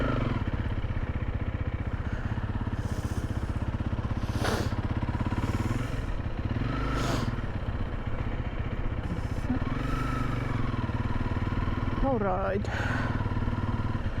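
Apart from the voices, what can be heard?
motorcycle riding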